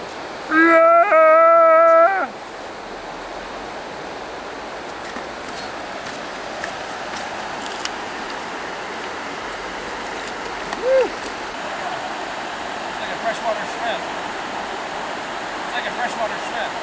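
A river streams steadily over rocks in an Ozark woodland, a constant broadband rush running the whole time, with a brief burst of another sound near the start.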